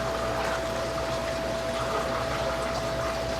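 A fish room water pump pushes water through a pipe that feeds a row of aquarium tanks, giving a steady, close whooshing flow with a constant faint electric hum beneath it and no pauses.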